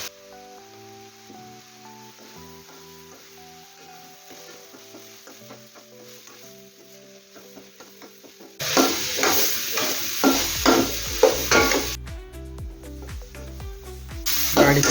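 Masala powder and garam masala fry in a pan for a millet pasta. Soft background music plays at first, then a loud, close sizzle and hiss of stirring bursts in and carries on to the end.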